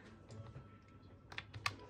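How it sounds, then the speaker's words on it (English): A computer keyboard has its buttons pressed during a Pokémon Uranium game session, giving a few faint, quick clicks late in the moment against quiet room noise. "I'm literally clicking every button on my keyboard."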